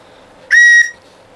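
A single short, shrill whistle blast from a hand-turned olive wood whistle, clean and loud, with quiet around it.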